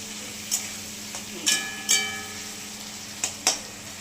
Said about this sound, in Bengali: ফুলকপিটা দিয়ে দিলাম, এবার কষাবো